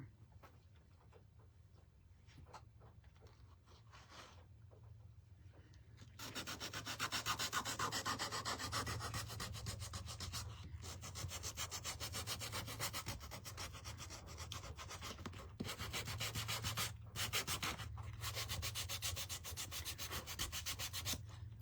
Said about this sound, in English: I'm just distressing the antlers a little bit